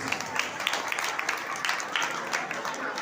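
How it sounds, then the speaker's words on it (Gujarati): Continuous crowd applause at an educational prize distribution event for students, dense steady clapping with scattered distinct claps, a voice faintly under it. "બધાને તાળીઓથી આપણે વધાવીશું"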